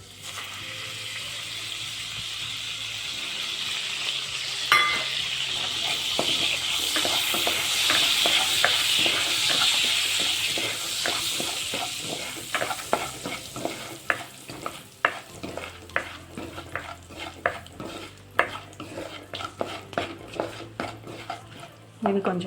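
Paneer curry ingredients frying in butter in a pan, a close steady sizzle with frequent metal spoon clinks and stirring scrapes against the pan that grow more rhythmic toward the end.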